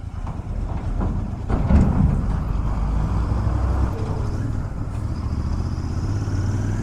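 Steady low engine rumble from an Interceptor 650 motorcycle cruising along, with continuous wind and road noise, a slight swell in the middle, no talking.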